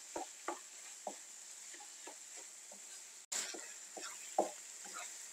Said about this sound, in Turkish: Domateslerimi de güzelce karıştırıyorum.